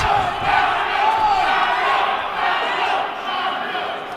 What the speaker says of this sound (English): As the crowd chants for Fabio